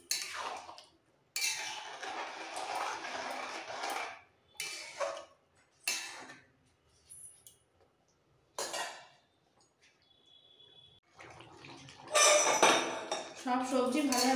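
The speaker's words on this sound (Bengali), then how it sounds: "একসাথে ফুটতে ফুটতে দিয়ে দেবো এই সময় ভেজে রাখা পনিরগুলো। একটু মিক্স করে দিচ্ছি।" Fried paneer mixed into boiling mixed vegetables in a pot, heard as bursts of metal utensil scraping and clinking against the pot, separated by quiet gaps.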